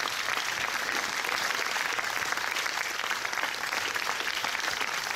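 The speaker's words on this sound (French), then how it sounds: "je vous demande sur un tonnerre d'applaudissements d'accueillir l'équipe de Meurtre en Pays d'Oléron" An audience at a preview screening in Rochefort claps in a continuous, rapid patter to welcome the film team of Meurtres en Pays d'Oléron. The applause stays moderately loud and even throughout.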